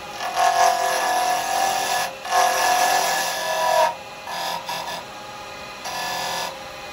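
Wood being drilled on a lathe while preparing a tenon to mount in the chuck, a steady rasping, whirring grind in several bursts with short pauses between, fairly close and loud, with no talking.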